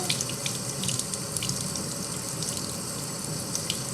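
Tap water runs steadily into a sink while a makeup cleaning glove is rinsed, a constant close splashing hiss with small irregular splatters throughout.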